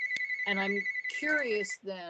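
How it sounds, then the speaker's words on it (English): A telephone rings with a steady electronic tone during a public hearing of a state library board, continuing beneath a man's speech from start to finish. "I apologize for the phone ringing."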